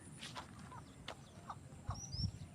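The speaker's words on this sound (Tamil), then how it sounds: "ஏதோ கோழி சவுண்டு கைஸ் கேட்டுச்சு" Outdoors, a chicken gives a few short, soft clucks at a distance, scattered among faint bird chirps and quiet ambient noise.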